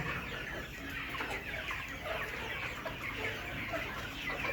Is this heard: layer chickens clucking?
yes